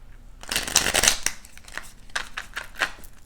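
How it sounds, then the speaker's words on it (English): Tarot cards riffle and snap together in quick bursts, a flurry of crisp papery slaps close by, followed by a second shorter shuffle. "Let's get one more shuffle."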